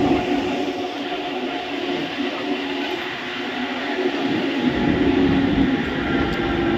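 A local train on the Howrah to Midnapore line pulls into Nalpur station, its steady broadband rumble and rolling rail noise holding loud and continuous, swelling slightly toward the end.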